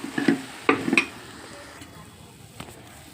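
A spoon scrapes and clinks around a pan as moong dal flour is mixed into a cooking sweet filling for pesarapappu burelu, a few short stirring knocks early, then a quiet low simmer with no talk.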